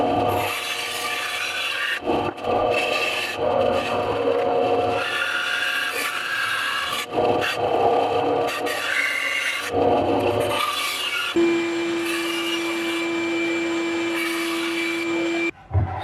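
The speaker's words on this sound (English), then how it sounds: "So I'm going to bring this over to the bandsaw now." A bandsaw cuts wood in a small shop with a continuous rasping whir broken by short pauses as the piece is fed, then it runs on with a steady tone before stopping, and no one speaks.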